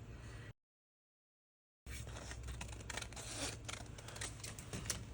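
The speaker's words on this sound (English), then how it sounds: "I'm going to go ahead and cut this out because I want that jar to be in the center" Paper from a junk mail envelope being cut with scissors around a jar shape, a steady close run of snipping and scraping after a brief silent gap, with no talk.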